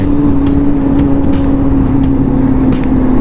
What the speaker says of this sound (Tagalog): Bakit sobrang traffic naman?